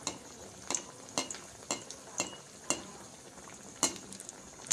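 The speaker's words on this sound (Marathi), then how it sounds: "हे बघा, अशा प्रकारे आपले वडे जे आहे आपण तळून घेऊया." Vada frying in very hot oil for street-style Mumbai vada pav, with a quiet sizzle under a series of sharp, evenly spaced clinks and scrapes of a utensil against the pan.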